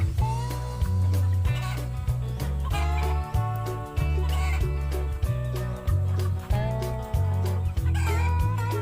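Bantam chickens cluck and a rooster crows inside a breeding pen on a farm in Bohol, Philippines, under steady rhythmic background music with a strong bass beat.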